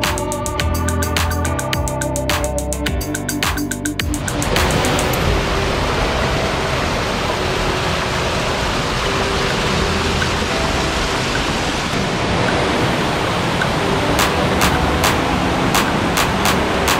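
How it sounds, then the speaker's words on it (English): Waterfall cascading down inside a cave, a dense, steady rush of falling water filling the space, loud and unbroken after a burst of music fades out at the start. "a very, very cool upwards view of a waterfall cascading down the cave, and that's where all the water is coming from"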